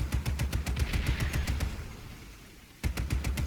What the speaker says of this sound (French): monte dans la mitrailleuse